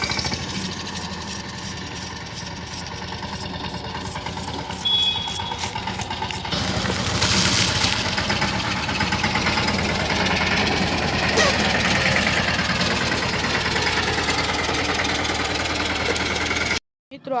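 A tractor engine runs steadily after servicing at a village service camp, a rough knocking idle that grows louder and busier partway through, with people talking over it before it cuts off abruptly at the end.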